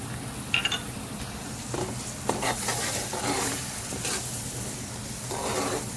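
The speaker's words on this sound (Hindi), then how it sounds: "चम्मच चलाएंगे।" Green chilies and tomato paste being stirred with a spoon in a pan for pulao, a continuous soft sizzle broken by scraping strokes and a few light metallic clinks.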